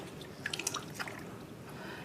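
Water cupped by hand over a newborn baby's hair during a bath, a cluster of soft drips and small splashes in the middle, quiet and close, with faint room noise around it.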